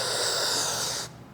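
A man imitates someone drawing hard on ganja with the mouth closed: a long, loud hissing, wheezy inhalation lasting about a second that cuts off abruptly, followed by quiet.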